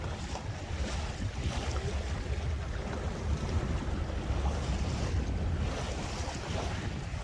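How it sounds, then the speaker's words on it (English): A sailboat runs fast through ocean swells off the Humboldt Bay north jetty near Eureka, California. Continuous rushing waves and buffeting wind noise dominate, loud and unbroken, with no voices. "Reasonably fun, fast sailing here."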